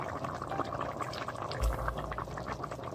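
Hot stock pours from a container into a pan of asparagus and leek soup, making a soft, continuous liquid rush with a brief heavier splash partway through, near and fairly quiet.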